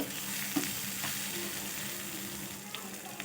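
Boiled soya chunks (meal maker) being stirred in a hot pan for samosa filling give a steady soft sizzle, with a few light spoon taps and scrapes against the pan.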